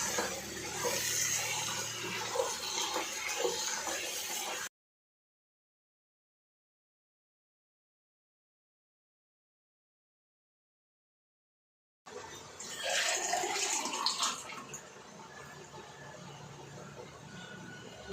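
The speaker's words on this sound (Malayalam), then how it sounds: "ചൂടുവെള്ളമാണ് ചേർക്കുന്നത്" Hot water poured into a pot of marinated chicken and rice for chicken biryani, heard as two bursts of steady rushing water split by a long silent gap.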